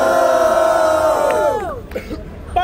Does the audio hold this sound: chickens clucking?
no